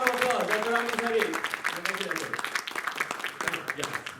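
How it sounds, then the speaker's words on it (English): Applause at a music festival in KL, a crowd clapping and cheering after a performer, starting strong and thinning into scattered claps with a voice talking over part of it. "Give him a round of applause."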